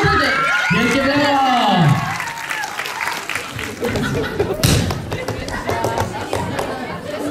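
An audience at a ZHP scouting festival in Myślenice applauds award-winning scout teams, clapping mixed with a speaking voice and crowd noise, loud and close.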